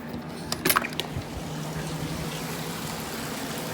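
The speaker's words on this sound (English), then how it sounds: "I have my own porch, little waterfall, serenity now." A little waterfall beside a porch gives a steady, close trickle and splash of running water, with a few brief knocks and clatters near the start.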